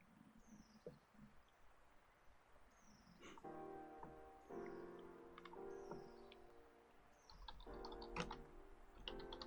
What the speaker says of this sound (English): You can hear the typing, can't you?